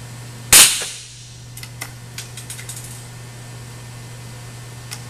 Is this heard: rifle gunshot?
yes